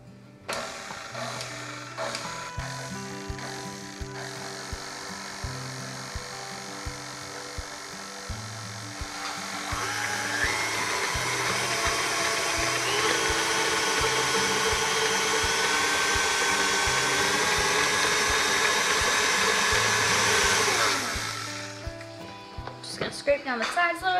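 An electric mixer whirs steadily through chocolate frosting for grandma's Texas sheet cake, rising to a loud continuous drone midway before cutting off, with a voice talking over the start.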